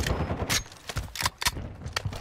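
Rapid gunfire from a first-person shooter video game, sharp cracks fired in quick succession about every half second, loud and close over a busy game background.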